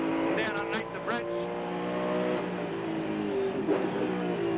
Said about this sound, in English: Back to 2nd gear for the turn on the pit straight